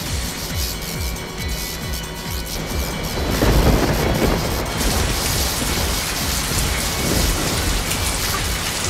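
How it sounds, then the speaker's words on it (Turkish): A heavy cartoon rain shower hisses steadily, with rumbling thunder swelling midway and holding loud and close to the end, no voices over it. "Biraz yağmur hiç fena olmaz."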